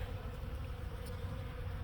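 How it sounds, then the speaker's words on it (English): Bees buzz faintly over a compost heap of vegetable scraps, coffee grounds and eggshells in a garden bed, a soft steady hum throughout with no talk. "you can plainly see the bees are working it."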